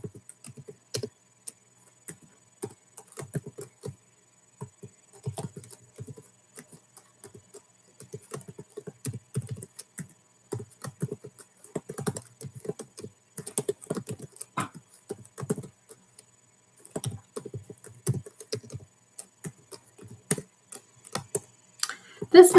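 A computer keyboard is typed on steadily during data analysis work, giving irregular soft key clicks in quick bursts with brief pauses, close and fairly quiet.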